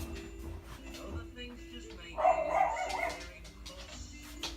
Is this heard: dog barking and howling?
yes